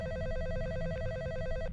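A telephone rings with a rapid, trilling electronic bell tone that repeats steadily and cuts off abruptly near the end, over a low background rumble.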